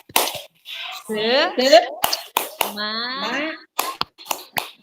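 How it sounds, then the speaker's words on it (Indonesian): A group of teachers and children claps a rhythmic cheer, sharp bursts of handclaps in short patterns between call-and-response speaking and chanting voices. "tepuk tangan untuk kita semua Bu"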